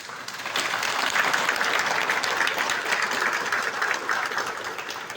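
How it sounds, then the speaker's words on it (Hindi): An audience claps continuously through a talk-show style event, a dense steady roar of many hands at moderate distance with no break. "आप लोग या तो ताली बजाओ मत, और या बजाओ तो फिर लक्ष्मी बम जैसे बजाओ"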